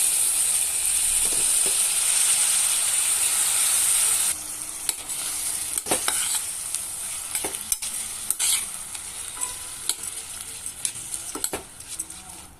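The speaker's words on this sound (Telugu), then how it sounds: "ఇప్పుడు ఇందులో కడిగి నానబెట్టుకున్న రైస్ అండ్ పప్పు యాడ్ చేద్దాం." Soaked rice and lentils are stirred into a spiced masala khichdi pan, starting with a loud steady sizzle that drops away into repeated scraping and clinking of a spoon against the pan.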